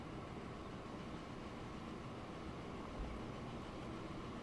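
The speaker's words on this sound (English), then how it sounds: "our steam train is just hitting the grade now" Steam train in Transport Fever climbing a grade with a full load, giving a steady, dense rumbling drone with no clear gaps, heard alone at moderate volume.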